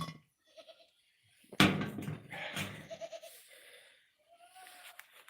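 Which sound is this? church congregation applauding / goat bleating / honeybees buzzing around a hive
goat bleating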